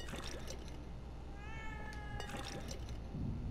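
A cat meows once, a short rising cry at moderate volume, over steady low background noise and game sound.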